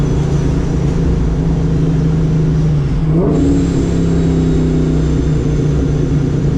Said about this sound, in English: Boy, I love that downshift.